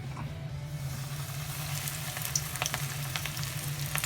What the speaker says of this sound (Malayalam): ഇതാ നമ്മുടെ ചിക്കൻ, നമ്മുടെ ഫ്രൈഡ് ചിക്കൻ ഇവിടെ ഫ്രൈ ആയിക്കൊണ്ടിങ്ങനെ ഇരിക്കുന്നുണ്ട് എണ്ണയിൽ.